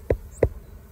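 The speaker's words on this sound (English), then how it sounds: "all the bees are nice and happy still" Honey bees fly around the hives during honey extraction, giving two brief close buzzes a fraction of a second apart over quiet background, with no voices.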